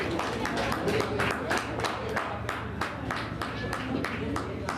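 Steady clapping from a crowd at a chess championship prize ceremony, a dense run of many hands applauding for a player, moderately loud and continuous throughout.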